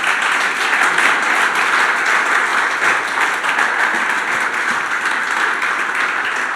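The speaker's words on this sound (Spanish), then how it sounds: "¿Por qué no le das tu mejor aplauso al Señor?" A church congregation applauding the Lord, a dense, sustained wash of many hands clapping at steady loudness throughout, with no pauses.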